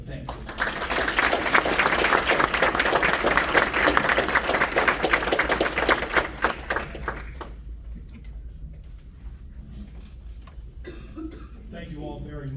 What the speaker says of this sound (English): give each and every one of these folks a round of applause